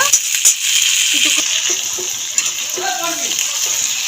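Halved tomatoes frying in a pan with a steady, hissy sizzle close up, broken by a few soft clicks and stirring sounds, with faint voice-like murmurs underneath.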